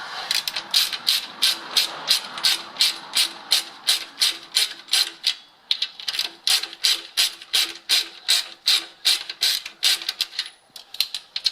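A hand ratchet cranks off a 14mm rear shock absorber nut underneath a Mitsubishi Triton ute, a long run of rapid, crisp clicking strokes in steady bursts, close and loud, with no talk.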